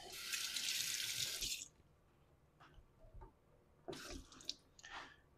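Tap water runs for rinsing a sharpening stone during a vintage Dubl Duck straight razor session, a bright close splash for about a second and a half, then quiet handling taps and a second short burst of running water.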